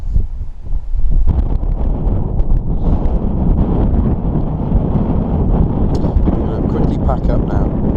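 Strong gusts buffet a microphone on an exposed hillside in the Malvern Hills, a loud, steady low roar of wind noise with occasional surges, filling the whole clip.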